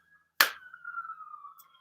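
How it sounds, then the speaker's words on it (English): Police car siren heard through an open window from the street outside: a single faint, distant wailing tone that follows a sharp knock and slowly fades. "But there's like police cars and sirens outside for some reason."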